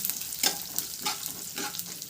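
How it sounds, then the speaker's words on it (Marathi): Cumin seeds and sesame seeds frying in about two spoons of oil over medium heat, a steady close crackling sizzle with repeated brief spatter bursts, heard alone without talk. "मी या मापाने 2 चमची तेल घालायचं आहे, जिरं घालायचं आहे, नंतर आपल्याला तीळ घालायचे"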